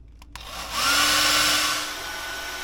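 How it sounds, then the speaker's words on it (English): A 1400 watt hair dryer powered by a portable solar generator switches on after a brief click and blows with a loud, steady roar close by, easing slightly toward the end. No one speaks. "Going to try this 1400 watt hairdryer."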